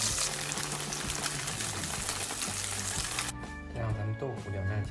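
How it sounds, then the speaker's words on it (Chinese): Tofu pieces, flipped over, frying on their second side in cooking oil: a close, continuous sizzle that drops away near the end, leaving quieter kitchen sounds and a low murmur. "翻过来继续煎另一面"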